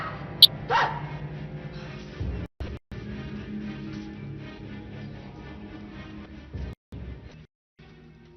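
Several dogs bark and yip in a village drama scene, a sharp yelp early on followed by muffled, continuous barking and whimpering under background music, with brief silent gaps.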